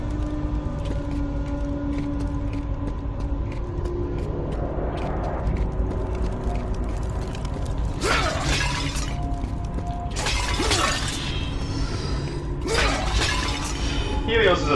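Flower pots in a temple in God of War: Chains of Olympus break with bright shattering crashes, three clustered bursts in the second half over a steady mechanical hum and game ambience.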